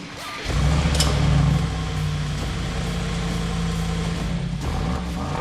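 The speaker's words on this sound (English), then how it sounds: "This is how the car sounds in normal mode." A Brabus-tuned Mercedes engine catches and idles in normal exhaust mode with a deep, steady rumble, a bit louder at first before settling into an even, throaty drone.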